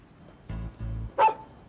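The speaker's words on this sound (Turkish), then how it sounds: "Niye havladı birdenbire?" A dog lets out a short series of close barks and yips, two low woofs followed by a sharper higher yelp, in an otherwise quiet indoor scene.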